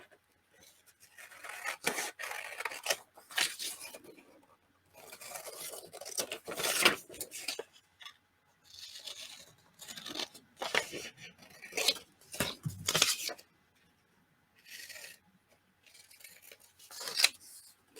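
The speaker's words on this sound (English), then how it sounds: "Grab my other scissors because they're a wee bit bigger." Scissors snip and slice through paper in irregular bursts of crisp rasping cuts, close up, with quiet pauses between strokes and no talking.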